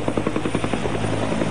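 A loud, steady helicopter with rapid rotor thumping and engine roar, close by and continuous.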